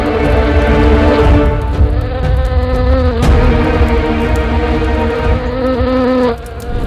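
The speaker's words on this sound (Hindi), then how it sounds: "इन मक्खियों को यहां से भगा दो। ये मुझे भी बहुत परेशान करती हैं।" Flies buzz loudly and close by, a continuous droning hum with wavering pitch that dips briefly near the end.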